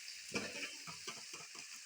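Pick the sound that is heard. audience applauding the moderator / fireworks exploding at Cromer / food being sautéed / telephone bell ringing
food being sautéed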